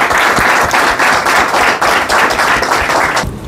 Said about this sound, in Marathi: चांगला टाळ्या वाजवा.